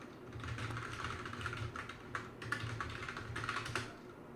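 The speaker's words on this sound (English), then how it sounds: "let me type here." Typing on a computer keyboard at a desk during an origami folding session, a steady run of close, quick clicking keystrokes with brief pauses and bursts, no talking.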